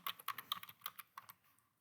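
Quick bursts of typing on a computer keyboard while entering a spreadsheet formula, a rapid run of light clicking keystrokes that slows and thins out toward the end, close and fairly quiet, with no voice.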